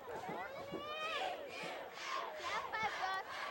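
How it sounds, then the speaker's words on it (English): Excited crowd murmur at a 2013 high school football game between Gunn and Prospect, a steady babble of many voices with scattered shouts building slightly over a few seconds. "a brief murmur here in the crowd as people are starting to get excited here as their Titans lead"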